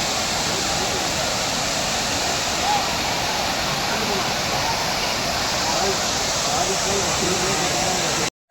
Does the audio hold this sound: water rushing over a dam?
yes